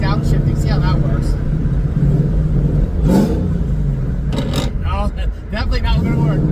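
A Coyote-swapped GT500 with a T56 gearbox downshifting at high rpm without the clutch pedal, its engine rumbling and revving loudly and close throughout while people talk over it.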